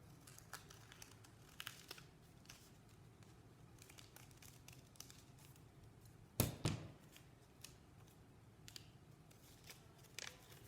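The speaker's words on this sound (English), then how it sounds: "Now when we cut them out," Scissors cutting paper flower petal shapes, with a series of soft close snips and crinkles of the paper, and one sharper rustle partway through, all quiet and with no talking.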